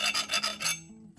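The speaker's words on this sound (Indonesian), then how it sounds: "karena kalau di bor itu kan pasti ada tembusnya ke bagian dalam, maka kita harus amplas juga." Sandpaper rasps inside a drilled metal airgun part, a side-pump bullpup build, in quick back-and-forth strokes, close and harsh, then stops as a low hum carries on.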